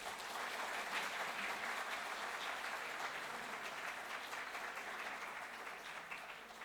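An audience at an alumni talk on mathematical engineering applauds in a steady, fairly faint wash of clapping that fades slightly toward the end, with no speech over it.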